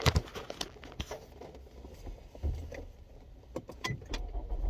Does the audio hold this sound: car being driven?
yes